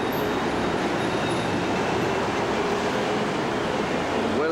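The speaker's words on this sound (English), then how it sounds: "train." A train passing steadily and close by, a continuous broadband rumble of rolling wheels and carriages with faint high-pitched squeals above it and no talking.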